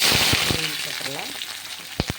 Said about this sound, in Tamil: எண்ணெய் காஞ்சிருச்சு. இதெல்லாம் போட்டு